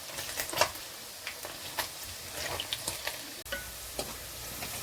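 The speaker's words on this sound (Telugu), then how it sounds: "ఉల్లిపాయలు అయితే ఎర్రగా వేగిపోయినాయండి" Sliced onions frying in oil in a pan for paneer mint rice, with intermittent scraping stirs of a spatula over a steady low sizzle, close and moderately quiet with no voices.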